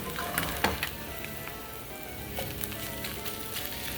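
Garlic, eggs, ham and cheese sizzle steadily in a pan over low heat, a continuous close crackle with occasional sharper pops and no voices.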